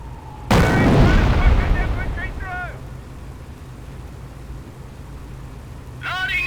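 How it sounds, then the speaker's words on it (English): A mortar fires incendiary rounds in the Company of Heroes video game: one sudden heavy blast that rolls off over about two seconds, followed by short voice-like game sounds. "Incendiary rounds on their way!"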